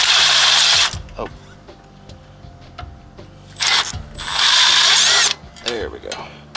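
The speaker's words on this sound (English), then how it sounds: "Alright, I found a small ratchet." Small ratchet turning a bolt on a Snapper Pro SW30 52 inch mower with a Kawasaki engine: bursts of rapid clicking ratcheting alternate with quieter pauses, heard close and loud, with a few scattered knocks.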